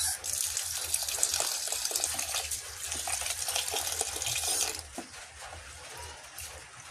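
Running tap water splashes steadily into a sink as rice grains are stirred and washed, then the flow cuts off and only quieter trickling and handling remain.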